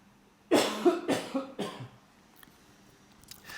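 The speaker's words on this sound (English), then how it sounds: "Sorry about my coughing." A person coughs several times in a quick series of close, harsh bursts, followed by quiet.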